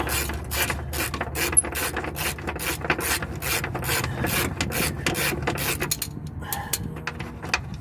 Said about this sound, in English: You then need a 14 on your ratchet. And try to take it off.